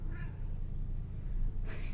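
A cat meows twice in a room, one short mew near the start and another near the end. A steady low background hum sits under both.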